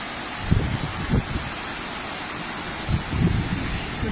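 Floodwater rushes across a village crossroads after heavy rain, more than the drainage pipes can take: a steady broadband roar with low, gusty buffeting bursts and no voices.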